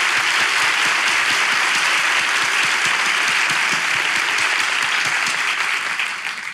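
Dense studio audience applause fills a Turkish relationship-quiz TV show, steady and loud throughout before tapering slightly at the end, with no talking over it.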